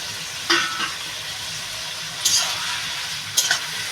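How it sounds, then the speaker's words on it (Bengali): Chopped tomatoes tossed into onions frying in a pan, a soft steady sizzle broken by a few sharp stirring scrapes, close and without talk. "পেঁয়াজটা জলদি হওয়ার জন্য টমাটোটাও দিয়ে দিলাম"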